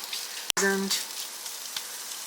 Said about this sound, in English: Now I'm just going to stir this around, and I just want to heat those brats all the way through, and I want the onion to cook up just a little